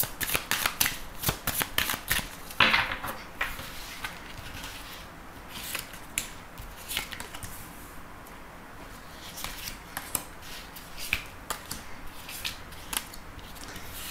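Tarot cards shuffled by hand in repeated quick riffling bursts, close and fairly quiet, with brief pauses between runs and no talking.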